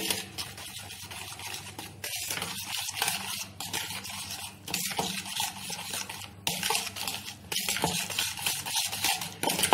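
Cupcake batter mixed with powdered sugar is stirred in a bowl, with repeated scraping and clinking strokes in a steady rhythm that pause briefly between bursts, close and fairly quiet.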